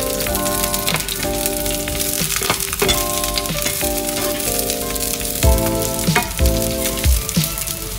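Garlic and basil leaves fry in a pan with a loud steady sizzle and crackle, while sustained musical tones play over it throughout.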